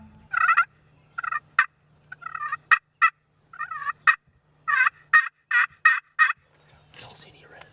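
Big mature wild turkey tom gobbling in full strut along a fence line, with repeated loud, rapid gobble bursts close by and short pauses between them.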